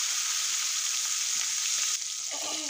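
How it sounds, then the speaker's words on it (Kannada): Fish frying in coconut oil in a pan gives a steady, fairly quiet hiss, with a brief shift near the end as a piece goes in or moves. "ಹಾಗೆ ಈ ಒಂದೊಂದಾಗಿ ನಾನು ಮೀನನ್ನು ಫ್ರೈಗೆ ಹಾಕ್ಕೊಳ್ತಿದ್ದೇನೆ ಪ್ಯಾನಿಗೆ"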